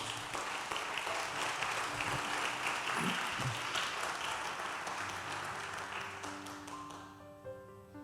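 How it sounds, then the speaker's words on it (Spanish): Church congregation applause fills the space as a dense, even patter of clapping that tapers toward the end, with faint tonal notes sounding underneath as it fades out. "Denle el aplauso al Señor."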